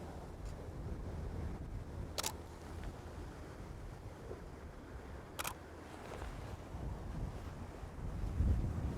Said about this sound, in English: And the wind has picked up.